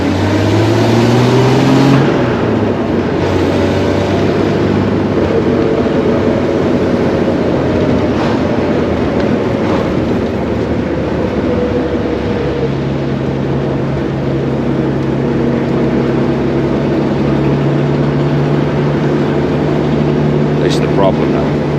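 A Bentley Special with a 4.9-litre Rolls-Royce engine, running after warm-up, gives a loud, deep, continuous drone whose pitch drops and rises as revs change, heard close for the whole stretch.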